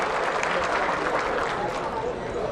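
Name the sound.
applause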